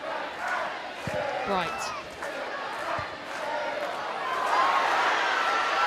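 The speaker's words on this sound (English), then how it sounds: "They're urging Frank Kirby. Anytime she gets on the ball, they want her to shoot." Football stadium crowd at a women's Chelsea v Bristol City match, a loud sustained roar rising steadily toward the end, urging a player to shoot, with commentary spoken over it.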